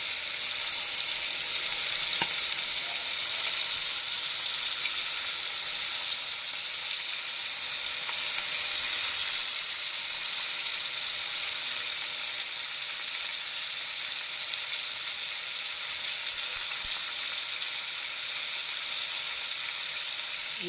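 Prawns frying in hot oil give a steady, close sizzle with a broad hiss that holds evenly for the whole stretch, crackling softly with no voices over it.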